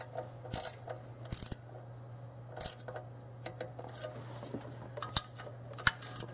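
Torque wrench on Chevy 350 timing cover bolts, tightened in a crisscross pattern: a series of sharp metallic clicks and ratchet snaps in irregular bursts, close and fairly quiet over a steady low hum, with no talking.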